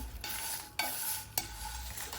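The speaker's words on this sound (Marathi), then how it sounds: "तर या गरम कढईमध्येच आपण मसाले परतून घेऊया" Spices for biryani masala being stir-roasted in a hot kadhai with the gas turned off, a soft continuous dry rustle and scrape with two sharper stirring knocks, close and fairly quiet.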